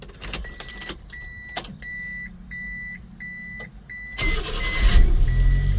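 Engine of a 1999 Subaru Sambar 4x4 kei truck with EFI and five-speed manual, heard after a run of repeated electronic chimes and clicks; it catches and settles into a steady low idle that grows louder near the end.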